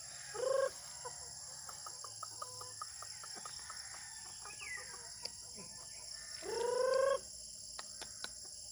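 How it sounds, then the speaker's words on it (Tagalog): Chickens cluck and squawk nearby in two short bursts, separated by quieter scattered clucks and a steady background hum. "nahuman ako bahog sa manok"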